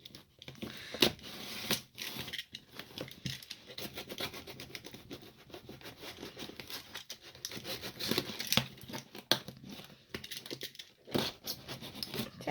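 Tape scraping, tearing and crinkling as someone works a taped mail package open by hand, with irregular close bursts of ripping and rustling across the whole stretch.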